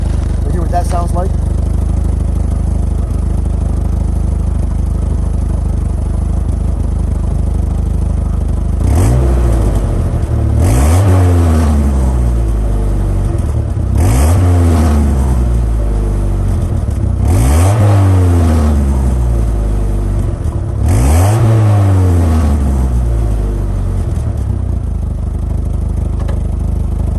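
A 2000 Jeep Wrangler TJ with the 2.5 engine idles steadily, then its exhaust rises through four separate revs, each climbing and falling back to idle, loud and close.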